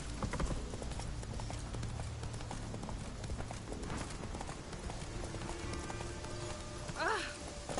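Roach, a horse in The Witcher 3, gallops with rapid rhythmic hoofbeats under game music and ambient sound, ending in a brief whinny-like call near the end.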